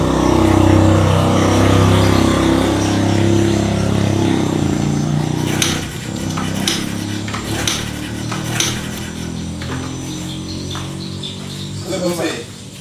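A motorcycle engine is kick-started over and over without firing, giving sharp mechanical clanks and clicks over a steady low hum, with a voice talking nearby.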